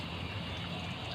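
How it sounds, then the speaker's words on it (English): Water flows through a washing machine's water inlet valve during a test, a brief, faint, steady rushing hiss with no voices. "This water is flowing."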